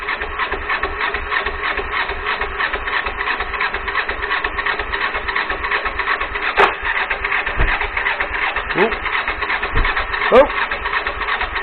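A long-idle GPZ 500 motorcycle engine, not run in ten years and fitted in a buggy project, cranks on the starter in a steady rhythmic churn with the choke on, a few sharp pops breaking through near the end; a voice exclaims briefly.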